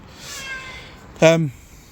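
Short cat meow at close range, a single bright rising-falling call near the end, following faint speech-like sound in a quiet room.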